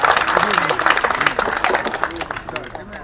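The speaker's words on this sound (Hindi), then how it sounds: "तालियों से इनका स्वागत करें सभी लोग।" Audience applause greeting a speaker at a gathering over Bihar teacher recruitment appointment letters, dense steady clapping from a crowd with voices mixed in throughout.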